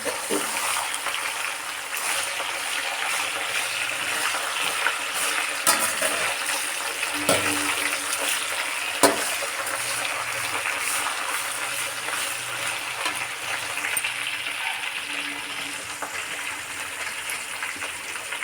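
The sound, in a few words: gongura leaves frying in oil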